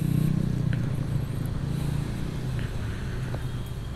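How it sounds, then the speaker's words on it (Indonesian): A motorcycle rolls through congested city traffic on Jalan Garuda in Bandung, its engine a steady low drone close by, with road noise and other vehicles murmuring around it. "Oke, kita pakai motor."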